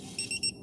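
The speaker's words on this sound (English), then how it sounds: "Sure, double beep." Two short high electronic beeps from a torque wrench set to 74 foot-pounds, tightening a Corvette underbody brace, in quick succession, faint and close, followed by a third brief tone.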